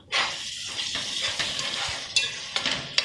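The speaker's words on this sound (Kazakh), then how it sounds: "Араластырамыз." Carrots and tomato paste are stirred in a hot frying pan, with sizzling under repeated scraping strokes of a utensil and a few sharper clinks against the pan, close up and without talk.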